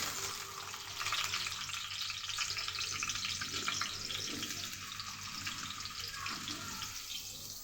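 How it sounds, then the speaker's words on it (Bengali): Freshly cut and washed potatoes hit hot oil in a wok, giving a loud, steady hiss and sizzle that holds from start to finish with no voices. "তেল গরম হয়ে গেছে, এর মধ্যে দিয়ে দেব কেটে ধুয়ে রাখা আলু।"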